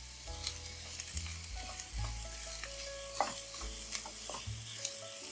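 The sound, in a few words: carrots and onion frying in a pan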